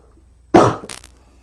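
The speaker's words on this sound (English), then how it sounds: "Don't want to cough in your ear." A single sharp cough, close and loud, followed by a brief breathy throat sound, then quiet.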